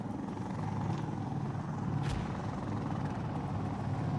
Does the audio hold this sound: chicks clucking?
no